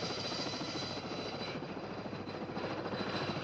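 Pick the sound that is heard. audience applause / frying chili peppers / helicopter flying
helicopter flying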